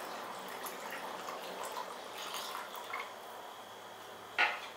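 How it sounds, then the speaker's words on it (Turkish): Hot water poured onto sugar in a pan for a creamy dessert sauce, heard as a soft, steady close trickle with faint drips and one brief clink of a glass or pot near the end. "Üzerine 3 su bardağı sıcak su ekliyorum."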